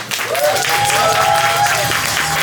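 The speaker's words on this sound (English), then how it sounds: "Clap it up for Mackenzy all the way to the stage" A live audience at a poetry event applauds and cheers steadily for a poet heading to the stage, with an excited vocal whoop rising above the dense clapping.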